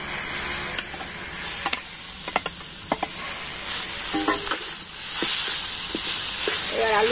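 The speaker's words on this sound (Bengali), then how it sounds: "আর এবার আমি দিয়ে দেব গ্রেট করে রাখা আলু।" Grated potato fries with spices in a pan, a dense close sizzle with scattered utensil clicks and scrapes that grows louder as the potato goes in and is stirred.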